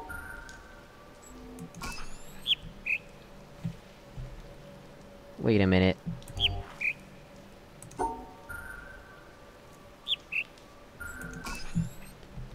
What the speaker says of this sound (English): But there's a bird.